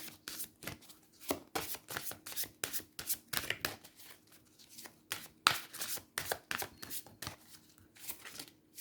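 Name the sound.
handling and shuffling oracle cards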